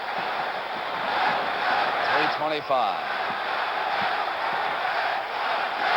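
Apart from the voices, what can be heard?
basketball crowd chanting "Let's go Celts"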